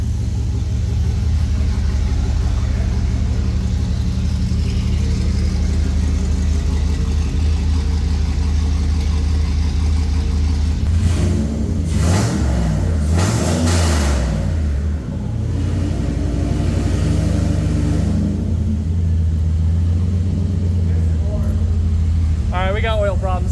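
Turbocharged pickup truck engine with a leaking fitting idling loud and steady, a brief rev surge mid-way, with voices talking over it.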